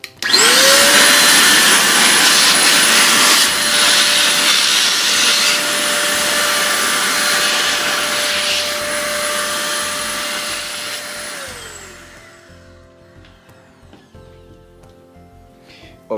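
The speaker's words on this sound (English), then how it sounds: "It blows air like a jet." An electric air blower used for cleaning computer parts roars loud and steady close by with a high whine for about eleven seconds, then winds down and cuts off, leaving quiet room noise.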